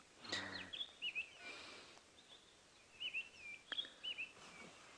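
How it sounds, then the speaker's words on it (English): Morning bird song rises from the bush at dawn, a quiet sequence of short, scattered chirps and whistled phrases in separate bursts with soft background ambience. "just listen to the bird song this morning"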